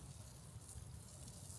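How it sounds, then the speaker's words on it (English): Quiet, constant sizzling of chicken wings cooking on a grill, a soft crackling hiss with no talking. "Hear the sizzle."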